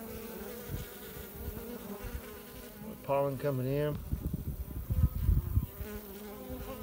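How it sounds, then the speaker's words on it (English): Honey bees buzz around an open hive full of bees in Locust, North Carolina, a close, steady humming swarm with a brief louder pass near the middle, and someone speaks briefly. "there's a lot of bees in here"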